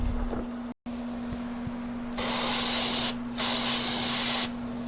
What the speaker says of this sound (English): And then we'll go get some brake clean